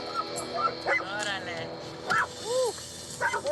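A dog vocalizes at a dog psychology center, producing short yips and rising whimpery barks in several bursts, fairly close, over steady background noise and some talking.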